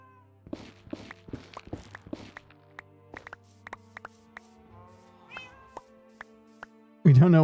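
A cat meows several times in quick succession, then goes quiet while soft taps and footsteps follow, and a loud burst of noise cuts in at the end.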